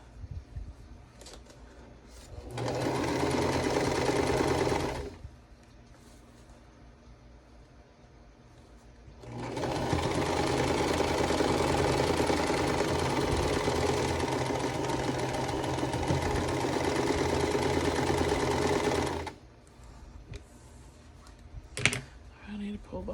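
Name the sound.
sewing machine stitching quilt block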